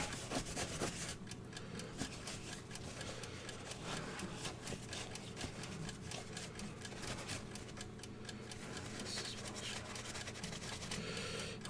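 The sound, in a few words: polishing a metal part for nickel plating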